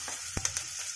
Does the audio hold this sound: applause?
no